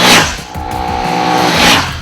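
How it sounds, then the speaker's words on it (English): A 2011 Ducati Monster 796 V-twin motorcycle engine with desmodromic valves revs up and holds a high, mechanical drone, then the revs rise again, heard close and loud. "The engine uses Ducati's famous desmodromic valve system, which gives it a very mechanical,"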